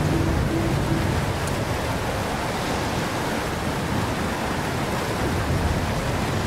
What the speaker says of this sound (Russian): Это мне не нравится, шум воды.